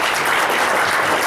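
Steady, dense applause from an audience at a forum speech, a continuous loud wash of many hands clapping.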